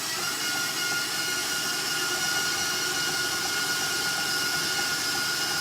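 An electric mixer blends flour and water for a sourdough starter, a steady, loud whirring drone running unbroken and close throughout with no pauses.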